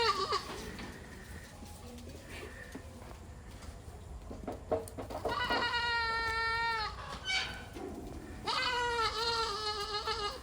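A young goat kid bleats in long, wavering cries from a separate pen compartment, two loud calls close by, with scattered rustling and quieter sounds between them.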